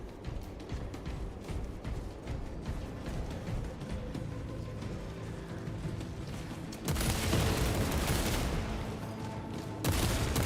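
Bolt rifle fire in Space Marine 2 crackles in a long run of rapid shots, with background combat noise first, then a louder dense burst of gunfire near the end.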